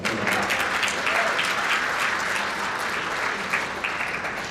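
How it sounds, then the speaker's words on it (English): Applause from a church audience at an 80th anniversary service fills the room, a sustained wash of many hands clapping with a few louder claps and faint cheers rising through it. "So again, give Gregory and yourself a round of applause."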